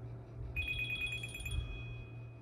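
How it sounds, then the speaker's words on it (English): An incoming call rings on a phone: a bright, repeating electronic ringtone starts about half a second in, pulses in a quick rhythm for about a second, then fades to a sustained tone over a low indoor hum. "Sorry, I got a phone call."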